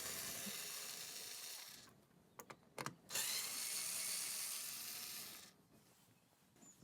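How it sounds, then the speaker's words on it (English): A cordless power driver undoing the tail light screws on a Hyundai i30 inside the open trunk, two long close whirring bursts with a few sharp clicks between them. "you've got access to those two screws that we are going to be undoing, just like that."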